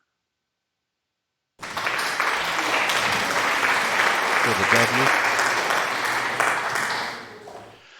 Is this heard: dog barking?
no